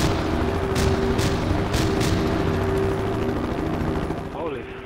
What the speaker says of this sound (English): Look at this freaking barrage.